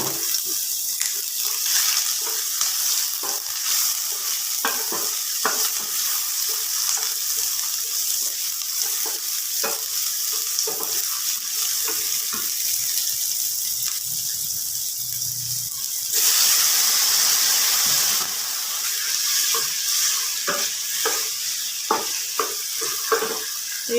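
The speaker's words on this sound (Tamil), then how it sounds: "இந்த வெங்காயம் கொஞ்சம் ஹாலண்ட் வெங்காயம், எல்லோ ஆனியன் வெட்டி இது போடுறேன் நான்." Chopped yellow onions fry in a pan for a mutton curry, a steady broadband sizzle close to the mic with repeated scraping stir strokes throughout and a brief louder hiss midway, no voices.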